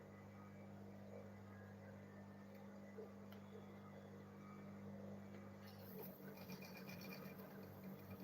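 A sewing machine runs steadily while stitching the side of a fabric lunch bag, a continuous motor hum with fine rapid needle ticking that shifts slightly near the end.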